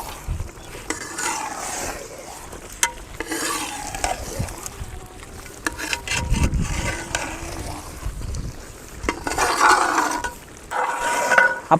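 Eggs that were fried first being stirred into a thick masala in a pan for an egg roast, giving steady scraping and stirring with soft sizzling throughout and occasional louder clatters from the pan, with no talking.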